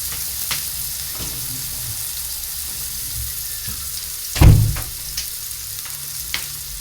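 Onions sauté in a pan with a low, even sizzle, punctuated by one louder clatter or splash midway and a few light taps.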